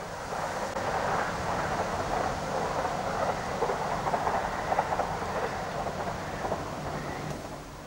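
A train on the Severn Valley line climbs the Camden Bank past fields of oilseed rape, giving a steady, fairly loud rumble of wheels and engine with faint rail clatter throughout.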